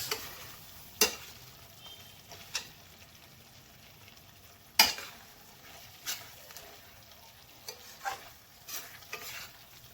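Paneer tikka being stirred and mixed in a pan, a low steady sizzle with occasional sharp scrapes and knocks of a utensil against the pan, spaced irregularly and fairly quiet.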